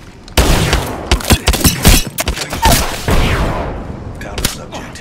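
A frag grenade blast and rapid gunfire from the video game Apex Legends. A dense, loud volley of shots and booms crackles over a few seconds, then trails off into a rumbling decay.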